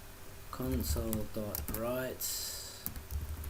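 Code is typed on a computer keyboard in short bursts of rapid key clicks, heard under a voice as he talks.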